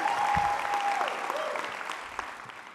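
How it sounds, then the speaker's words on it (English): Graduating class at a commencement ceremony cheering and applauding, a broad, sustained roar of clapping from a large crowd with a few whistles early on, gradually tapering off. "Yes, you can cheer."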